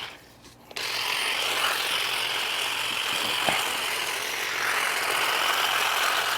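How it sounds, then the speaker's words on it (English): A Saker cordless hedge trimmer starts up and buzzes steadily while trimming a bush, a loud continuous whir with slight shifts as the blades meet branches, close by. "I'm just going to trim this bush up for you real quick here"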